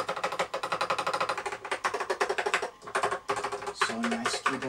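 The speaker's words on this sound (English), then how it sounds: "So nice keyboard. I love this keyboard." Fast, uneven clacking of keys on a Macintosh Plus keyboard, typed in rapid bursts with brief pauses, close and fairly quiet in a room.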